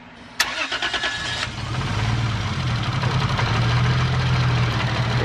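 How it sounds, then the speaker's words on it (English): A car engine, with a 50-50 mix of red coolant in its system, cranks with a sharp starter burst and then catches into a steady, rising idle that holds low and loud to the end. "So now I'm gonna run the car."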